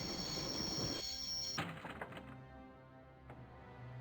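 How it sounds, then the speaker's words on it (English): A train in the video game Broken Sword comes to a halt with a grinding rumble, a high squeal that cuts off, then heavy clunks and fading mechanical noise. "I'd always wanted to stop a train, and now was my chance."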